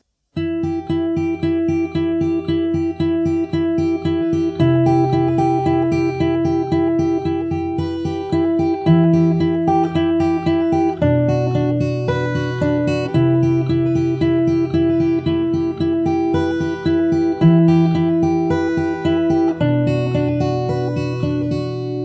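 Full intro on fingerstyle acoustic guitar from the start, looping plucked arpeggios with shifting bass notes, even and close throughout, no talking.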